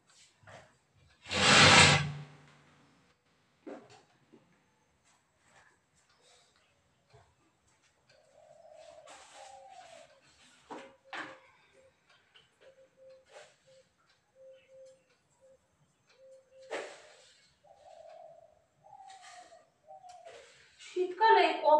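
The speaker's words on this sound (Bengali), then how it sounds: "শুনতে পাচ্ছ পাখির ডাক?" Several birds call faintly outdoors on a cold winter day, scattered short chirps and cooing notes spaced through a quiet background, with a sharp louder knock near the start.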